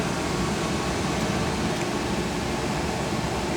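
A Rheem Classic Series gas furnace blower runs alone as a steady, fairly loud broadband whoosh of moving air with a low rumble, unchanging throughout.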